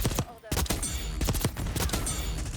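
Rapid bursts of AEK-973 rifle fire in the shooter game Black Ops 6, loud, close and nearly continuous over a few seconds, with brief gaps between the bursts.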